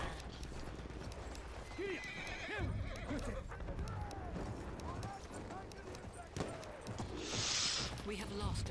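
A horse in a video game whinnies and its hooves clip-clop at a steady trot, with voices talking over the game sounds throughout, all fairly quiet.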